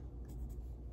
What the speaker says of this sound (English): I'm just going to make a little tiny mark here